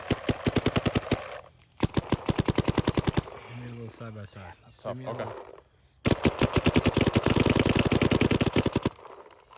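Rapid bursts of shots from Dye MXR and Planet Eclipse Geo R5 paintball markers, fired in quick rhythmic strings, with a brief stretch of talking in the middle before another long volley.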